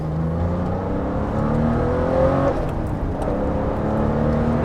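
Porsche 993 RS flat-six engine revving hard under way, its pitch climbing steadily through the gears with a brief dip at a shift, loud and close, with constant road and wind roar and no talking.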